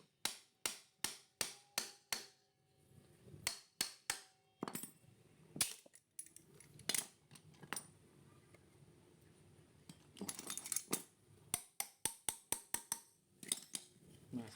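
A hammer strikes a part on a carbureted Honda Vario scooter engine during engine removal in a workshop, sharp metallic blows in quick rhythmic bursts with short pauses, close and distinct.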